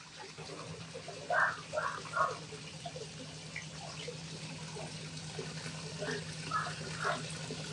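Water trickles softly and continuously in a Japanese bamboo water feature, a faint steady flow with a low hum beneath and a few brief splashy bursts early on and near the end.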